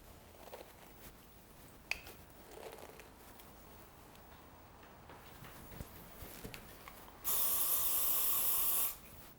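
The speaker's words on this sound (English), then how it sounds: "you can directly use your hairspray on your brush and not on your head" Hairspray sprayed onto a hairbrush during curl styling, one loud continuous hiss lasting about two seconds near the end, after quiet handling noises.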